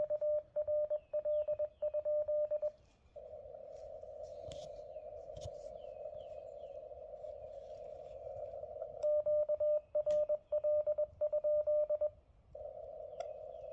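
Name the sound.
Morse code QRL sent on amateur radio CW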